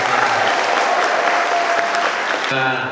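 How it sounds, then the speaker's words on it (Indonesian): An audience applauds for the governor at a Jakarta governor's office dialogue with SMAN 1 Leuwiliang students, with loud, dense sustained clapping that thins near the end as a voice begins. "aplaus sekali lagi untuk Bapak Gubernur"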